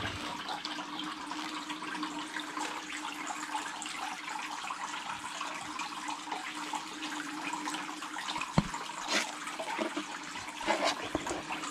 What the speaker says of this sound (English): I like to pull the material down, all your rocks and such, and then pour those out the back end.